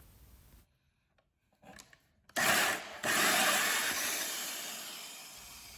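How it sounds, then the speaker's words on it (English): After a few quiet knocks, a powerful drill starts up loudly, cuts briefly, pauses, then bores steadily through a wooden board with a continuous grinding whine. "drill halfway through on one side and then flip the board and drill from the other side"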